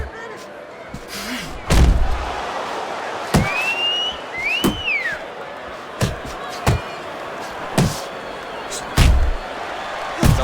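Heavy punches thud at intervals in a Fight Night Champion boxing simulation between Deontay Wilder and Kubrat Pulev, sharp slams landing every second or so over a steady arena crowd murmur.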